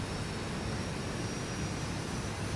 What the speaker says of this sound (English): So our engines are starting.